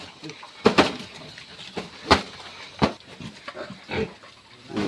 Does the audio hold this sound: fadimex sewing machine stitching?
no